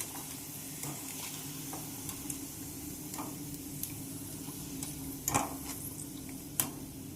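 Flattened rice (avalakki) frying in oil until it puffs up makes a faint, continuous sizzle, broken by scattered light ticks and a couple of sharper stirring knocks.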